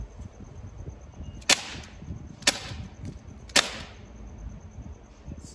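Three sharp, loud shots from an Umarex XBG air pistol, fired about a second apart, each with a crisp snap and a short ringing tail, over faint background hiss.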